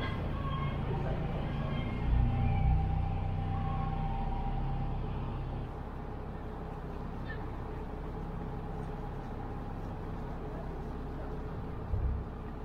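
A narrowboat passes under Broad Street Tunnel on the Birmingham canal with a low, steady engine hum echoing in the enclosed space, a constant droning chug with slight swells.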